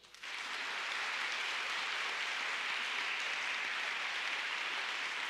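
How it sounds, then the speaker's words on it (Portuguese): Audience at an evening literature lecture applauds a guest speaker, a sustained even wash of clapping, fairly soft and distant, starting abruptly and continuing steadily. "por favor, uma salva de palmas a ele"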